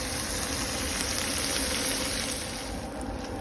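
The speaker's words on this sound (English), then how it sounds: "get these onions nice and cooked down and caramelised" Onions cooking down and caramelising in a pan for a dhansak curry give a steady, even hiss of frying that runs unbroken throughout, close and moderately loud with no voices.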